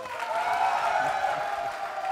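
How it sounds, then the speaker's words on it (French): Studio audience on a Burkina Faso TV entertainment show applauds steadily, a dense even wash of clapping that holds at moderate loudness without talk over it. "Si vous êtes d'accord, applaudissements."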